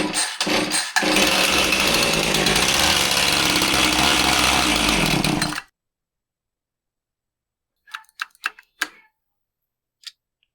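A Husqvarna 450 chainsaw with a bog runs loud and rough for about five seconds, then dies abruptly, leaving silence broken only by a few faint clicks and taps.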